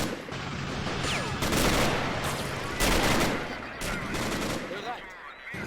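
Dense gunfire from soldiers unloading on the flank of a trench in the war game Men of War: Assault Squad, loud overlapping rifle and machine-gun bursts rattling continuously with heavier booms, a voice talking underneath.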